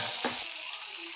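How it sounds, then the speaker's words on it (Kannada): Chicken frying in a pan with garam masala and spices, a brief close sizzle with a stirring scrape at the start before the hiss settles. "ಇದು 1 ನಿಮಿಷಗಳ ಕಾಲ ಫ್ರೈ ಆಗಬೇಕು"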